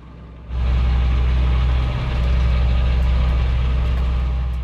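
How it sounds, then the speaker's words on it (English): A sailboat's engine starts up and settles into a steady, loud, low idle, heard close on board during a passage across the Norwegian Sea in Arctic waters. "the engine got started"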